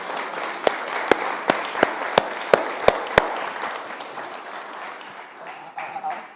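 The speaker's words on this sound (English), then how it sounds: "Can we just get a quick round of applause for all of the three previous speakers?" Applause at a conference event: a short run of sharp, evenly spaced claps rings out over a soft room murmur, then stops after about three seconds, leaving quiet background noise.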